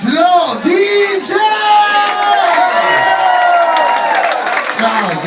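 A party crowd cheers and whoops with applause as a DJ is welcomed, loud close shouts and tonal yells riding over clapping, with a voice calling out over the noise.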